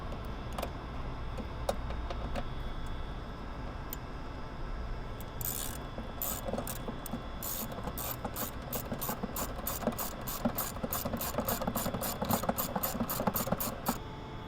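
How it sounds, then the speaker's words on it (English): A 10mm wrench tightens a factory nut onto a stud through a hole in a cold air intake scoop on a 2019 or later Chevy Silverado 1500, giving quiet ratcheting clicks that grow into a fast, regular run of ticks. "we're going to use the factory nut over the stud, and we have a hole in the top of this scoop, and you're going to tighten it using a 10mm"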